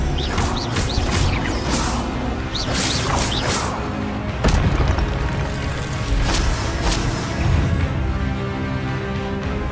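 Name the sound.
Expelliarmus spell cast in video game Hogwarts Legacy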